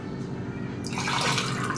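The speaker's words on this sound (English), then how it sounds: "are you gonna pour it in this cup?" Liquid is poured into a plastic cup, a short close trickle that turns into a fuller splashing stream partway through.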